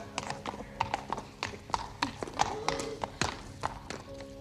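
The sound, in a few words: horse hooves clip-clopping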